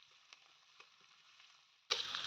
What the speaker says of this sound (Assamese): ভাজি আছোঁ